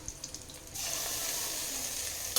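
Ginger garlic paste hits hot oil for a stuffed brinjal curry, breaking into a steady close sizzle after a few faint clinks and stirs, holding on to a brief louder spike at the end; no talk.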